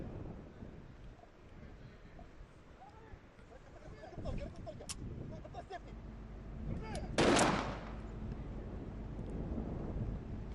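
A single sniper rifle shot at a SWAT challenge event cracks out sharply with a brief rumbling tail, heard at a distance over steady wind and background noise, with faint voices in the surroundings.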